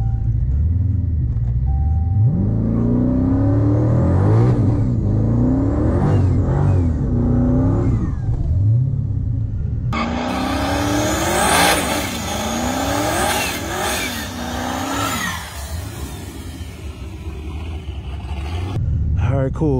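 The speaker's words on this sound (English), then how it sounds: "We're gonna try to get a second gear launch on this one, boys." A Dodge Hellcat fitted with a 30-year-old transmission revs hard for a second-gear launch, its loud engine roaring repeatedly, then surging into a sustained high rev with a brief tire screech near the end.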